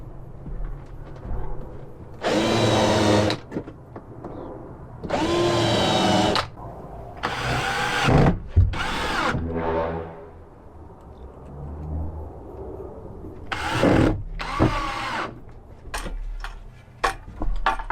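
A power drill cuts countersinks into a cabinet in a Peugeot Boxer campervan conversion, several loud whirring bursts of a few seconds each separated by quiet pauses, close by.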